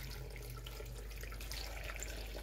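Water pouring in steadily for a Jamaican breadfruit porridge with ripe plantain, going into a blender, a soft continuous trickle with no talk.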